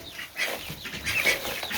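A broody hen clucks nearby in a series of soft, throaty, rising calls, close and fairly clear against quiet surroundings.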